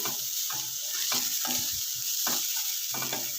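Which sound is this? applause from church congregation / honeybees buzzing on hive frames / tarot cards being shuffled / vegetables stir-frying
vegetables stir-frying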